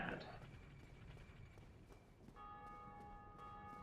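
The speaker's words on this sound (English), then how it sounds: "You can still hear those bells ringing. That means players in their world are ringing the bells." Church bells ring in Dark Souls, rung by other players in the Undead Asylum: a faint, sustained metallic chime swells in partway through over low ambient game noise.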